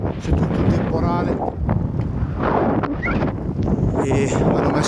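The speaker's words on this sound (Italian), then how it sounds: "C'è una pioggia nebulizzata ma pazzesca che entra ovunque e un forte vento" Strong wind buffeting the microphone with fine misty rain during a storm while cycling at about 15 km/h in Iceland, a loud constant roar with gusty swells throughout.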